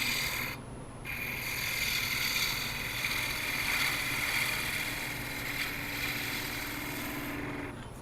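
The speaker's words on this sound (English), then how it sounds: "We can use the edge of our spindle gouge to round off, soften that a little bit." Spindle gouge cutting wood on a spinning lathe, giving a steady, close scraping rasp with slight swells over several seconds, alone without talk.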